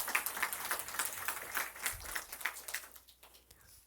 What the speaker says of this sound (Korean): 주님께 영광의 박수.